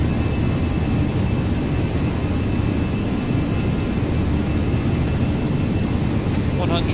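Airbus A319 jet engines at takeoff thrust in a flight simulator: a steady, loud, broadband roar with a continuous low rumble holding evenly throughout, with no talk over it.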